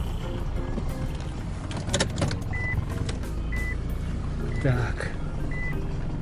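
A 1996 Mazda MPV with a WLT diesel engine turns around. Its reversing beeps repeat at intervals over a low engine rumble. Someone says a brief word near the start.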